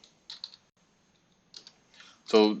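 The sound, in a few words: typing a name on a computer keyboard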